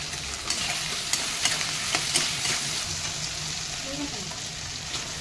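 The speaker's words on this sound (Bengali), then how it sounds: "টমেটো আর আলু দিয়ে দেবো, ভাজা করতে হবে পরিমাণ মতন" Tomato and potato pieces frying in a pan with salt and turmeric give a steady, soft sizzle throughout, broken by a few sharp clicks of stirring against the pan and faint voice-like sounds in the background.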